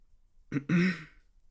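A single short throat clearing, two quick rough bursts close to the listener, followed by quiet.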